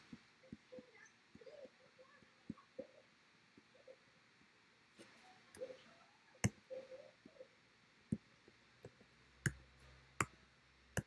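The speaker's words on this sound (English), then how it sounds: "Now you don't know what I'm typing" Typing on a computer keyboard gives faint, irregular clicks and taps, sparse at first and then a few sharper, louder keystrokes in a quiet room.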